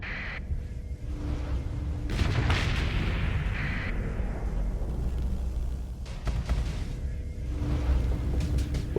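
Unguided dumbfire weapons launched at a ship in Starsector, booming blasts and whooshing swells over a constant low rumble, with a few sharper hits scattered across the scene.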